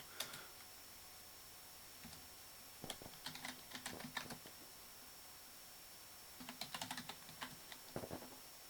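Keys tapped on a computer keyboard to enter a login at a firewall's F12 boot prompt, in two short bursts of clicks with a pause between, quiet and close with no talk.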